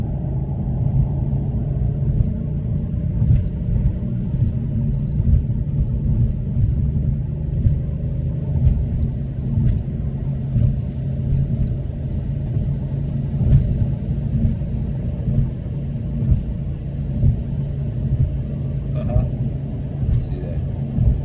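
A Porsche 911 of the 993 generation driven on the road, its engine a steady low rumble with road noise and faint gear changes throughout, close and continuous.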